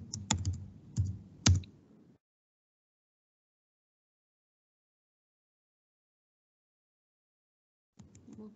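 Brief bursts of typing on a computer keyboard, a few quick clusters of key clicks close by, then a long silence before a last short flurry.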